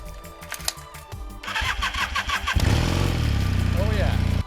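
A Honda CB400T motorcycle with a leaky head gasket is started: a short starter crank, then the engine catches and settles into a loud, steady, close idle, with a voice briefly audible.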